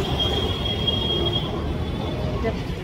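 A tram rolls past with a long, high metallic wheel squeal over a low rumbling drone, fairly close.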